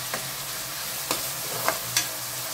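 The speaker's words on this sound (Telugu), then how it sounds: "ఉల్లిపాయలు బాగా వేగినట్టు పచ్చి వాసన పోయేంత వరకు" Onions frying in a pan for Telugu-style keema, a steady close sizzle with a few light stirring scrapes spaced about half a second apart.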